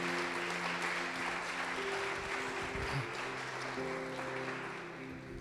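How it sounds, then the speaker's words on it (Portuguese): A church congregation applauding, a dense continuous wash of clapping that holds steady and fades slightly toward the end, with a low murmur of voices beneath. "Pode aplaudir o Senhor Jesus"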